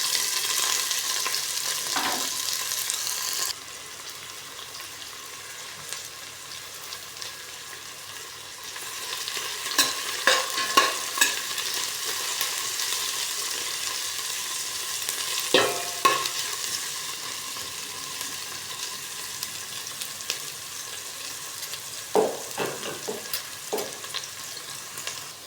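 Onion and garlic sautéing in a pan give a steady sizzle broken by a few sharp stirring scrapes and clinks, the sound close and unaccompanied by talk.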